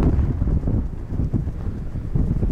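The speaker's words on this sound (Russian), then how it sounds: "Вот такое ветрище." Strong gusts buffet the microphone outdoors at the edge of a village, a loud, continuous low roar that swells and dips with no talking.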